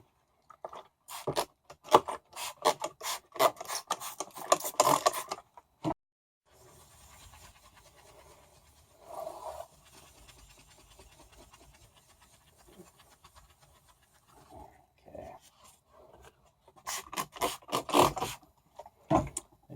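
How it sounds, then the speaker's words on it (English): 1000-grit abrasive rubs against window glass to sand out a scratch. The scrubbing comes in quick, close, rasping strokes in bursts at the start and end, with quieter gaps between. "I'm gonna go at that with 1000 grit and see if we can get rid of it."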